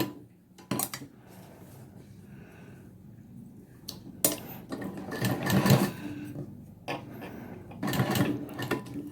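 A sewing machine stitches invisible piping around a curved neckline in short bursts of mechanical whirring and clatter, separated by quiet pauses and small handling clicks as the fabric is turned, close and moderately loud.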